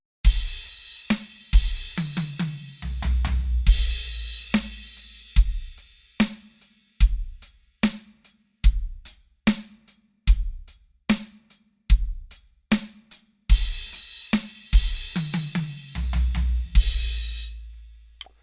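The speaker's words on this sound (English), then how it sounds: "I'm just going to play it on the high tom and then the floor tom." A drum pattern of sharp tom hits, high tom and floor tom alternating with cymbal splashes and low kick thumps, played with spaces between phrases, loud and close.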